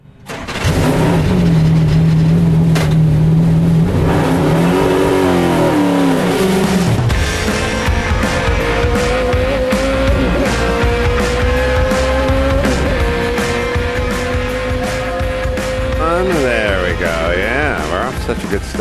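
A Corvette race car fires up, then revs hard with a rising engine whine as it runs past at a racing event, loud and close, with voices talking over it.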